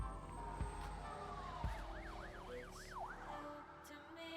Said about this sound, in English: The siren sounds far too close for comfort.